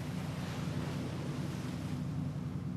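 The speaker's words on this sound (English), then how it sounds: "boats head out to sea from Pangkor's jetties at precisely 3 p.m." Fishing boats at sea off Pangkor, Malaysia: a steady low engine drone under broad wind and water rush, continuous and moderately loud with no voices.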